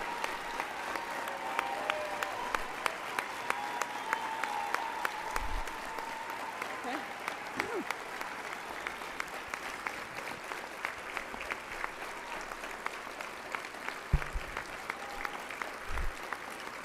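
Sustained audience applause at a Women in Aviation International Pioneer Hall of Fame induction welcoming Dr. Kathryn Sullivan, a steady dense clapping from a large crowd throughout, with a few louder individual claps.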